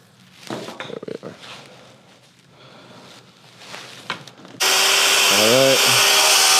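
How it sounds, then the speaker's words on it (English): Sawzall reciprocating saw abruptly starts cutting during a river table build, a loud, close, harsh buzz that runs steadily to the end, preceded by quieter handling noises and shuffling. "I'll get that with the Sawzall in a second"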